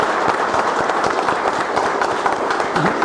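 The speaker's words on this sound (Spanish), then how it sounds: "voy a tener un aplauso para usted" An audience at an international public law conference on maritime dominion gives a round of applause, a continuous, fairly loud patter of many hands clapping, steady throughout.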